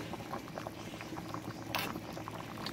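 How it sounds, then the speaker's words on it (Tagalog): Thickened lechon paksiw sauce boiling in a pot, a soft, continuous bubbling and popping at close range, with a brief louder burst of bubbling midway. "Konting ano pa, mga 10 minutes pang pakulo to."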